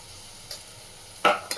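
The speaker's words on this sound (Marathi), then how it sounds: "हे बघा, वाटण घालते, फोडणीलाच घालते वाटण." Ground masala paste hits hot tempering in a pressure cooker pot for cowpeas, giving a sudden sharp sizzle burst near the end after a quiet start with one small clink.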